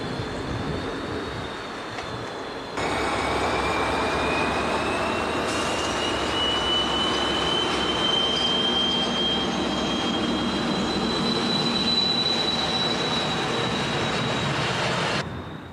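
An SNCF BB 66400 diesel locomotive from Chalindrey hauls a military train. It makes a continuous loud rolling rumble with a long high wheel squeal drawn out over it as the train passes.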